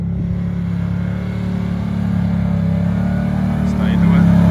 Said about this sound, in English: Rev a little bit.